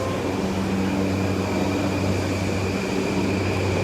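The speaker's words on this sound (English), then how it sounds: "I came by the Yamanote train" A Yamanote Line train at Harajuku station in Tokyo gives off a steady, loud droning rumble with a low mechanical hum, unchanging for the whole few seconds, with no voices.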